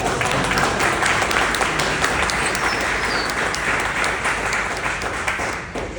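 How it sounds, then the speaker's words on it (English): Dense audience applause at an annual community business meeting, loud and continuous with a few scattered whoops, easing slightly at the end. "this is the applause"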